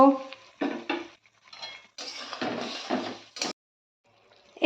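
Spiced water from rinsing a bowl being stirred in a pan, with short bursts of spoon scraping and clinking against metal separated by quiet gaps, close and fairly loud.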